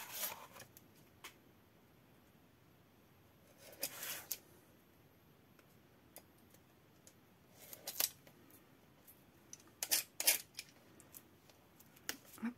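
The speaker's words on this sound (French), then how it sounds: "Je viens découper cette partie-là" Scissors cut paper for a scrapbooking album in a quiet room, making several crisp snips in short clusters with soft rustling of the paper in between.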